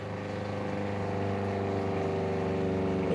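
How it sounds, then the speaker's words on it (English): A small electric water pump in an RV water station priming, a steady droning hum with a rhythmic pulsing texture that grows slightly louder and holds constant throughout. "as you can see, it's priming the pump"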